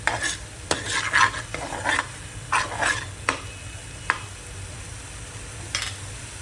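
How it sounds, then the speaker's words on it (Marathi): Ginger sautéing in a pan on the stove, with several bursts of spatula scraping and stirring over a steady low sizzle, plus a few isolated clicks and taps; no one speaks. "व्यवस्थित परतून घेऊ आपण 1 मिनिट। भाजी करताना वाटण टाकायची विसरली होती म्हणून मी आलं परतून घेतलं आहे।"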